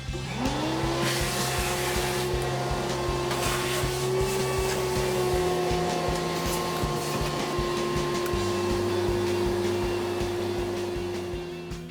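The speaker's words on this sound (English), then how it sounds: "So now I'm gonna vacuum this out." A loud vacuum cleaner cleaning out a clothes dryer vent drones steadily throughout with a rising whine at the start and a rattling, fluttering undertone as it sucks out debris.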